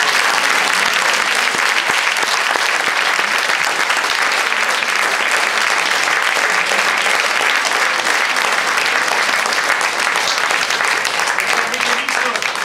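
Steady, dense applause from a theatre audience after a stage musical about Mother Teresa, continuous and loud throughout with no breaks.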